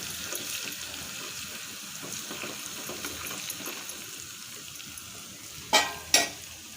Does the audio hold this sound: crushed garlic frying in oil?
yes